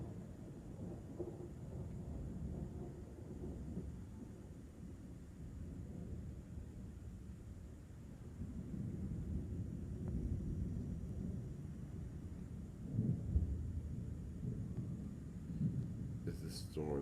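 Faint distant thunder from a lightning storm over the Salton Sea in Indio, California, rumbles in long, low rolls that swell midway and again near the end, with quiet voices at times.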